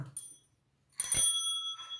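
A bright bell sound effect rings out once, a sharp metallic ding with a lingering high tone, close and clear after a moment of silence, preceded by a brief bit of voice.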